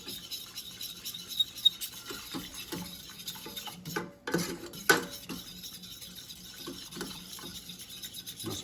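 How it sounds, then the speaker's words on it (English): A spoon scrapes and stirs a thickening cornstarch mixture in a pot over a gas flame for lemon meringue cups, with soft irregular rubbing strokes and occasional clinks against the metal, fairly quiet. "You also want to stir it a good amount so you don't get lumps of cornstarch in here."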